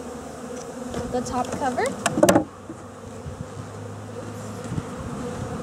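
Honey bees buzzing faintly and steadily in the background as a package of bees goes into a new hive made from western boxes, with a person speaking and a brief clatter of the hive cover being handled.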